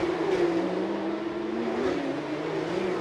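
Porsche Carrera Cup race cars scream down the straight of the Chonburi street circuit, a loud engine whine rising and falling in pitch as the cars pass close by, with no talk.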